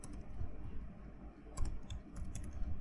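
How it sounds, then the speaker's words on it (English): Quiet typing on a computer keyboard while entering a plot command in Mathematica, a short run of soft, uneven key clicks with a few sharper taps, close up and alone. "then I use plot, and I will type"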